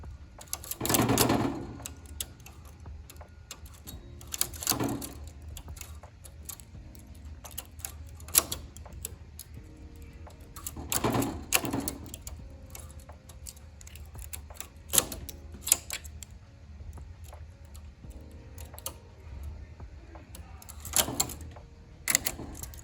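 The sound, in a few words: knitting machine knitting cable stitches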